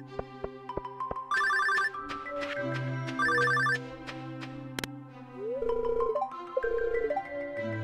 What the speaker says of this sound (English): What's that noise? Am I getting a phone call?